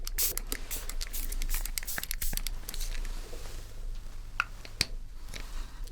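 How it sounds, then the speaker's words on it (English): Close, crisp crinkling and crackling of a thin plastic water bottle being squeezed and handled, with scattered sharp clicks and taps. "It's just a water bottle"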